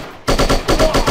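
Rapid bursts of automatic gunfire from the shooting video game Striker, chapter 3, erupting after a brief quiet and pulsing in a steady, loud rhythm of about four or five repeated volleys.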